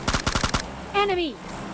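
AKM rifle gunfire in a battle royale video game: a rapid close burst of about six loud shots, followed by a short swooping whistle-like tone.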